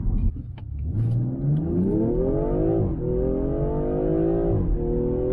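A 2020 BMW M340i xDrive sedan launches hard in sport mode, its engine and exhaust climbing through a rising rev sweep, dropping briefly at a gear change, then pulling up again, loud and close from inside.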